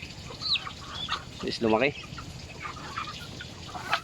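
Chickens cluck and squawk close by while pecking at rice grain, a burst of rapid clucks in the middle amid scattered softer calls, with a person speaking briefly.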